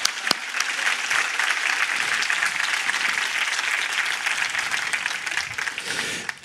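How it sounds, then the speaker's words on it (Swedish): Crowd applause during a political speech at Almedalen, a burst of dense clapping from a large outdoor audience that holds steady, then fades near the end. "Ja, det är värt en applåd. Applåd för dem."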